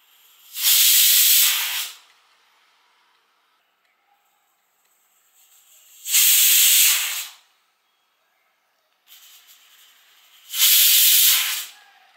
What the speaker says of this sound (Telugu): ఇప్పుడు మూత పెట్టి 3 విజిలీలు వచ్చేంత వరకు వీటిని ఉడికించుకోవాలి.